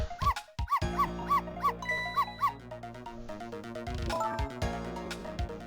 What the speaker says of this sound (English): Missy, if you bark like that, you'll make the lady next door start howling.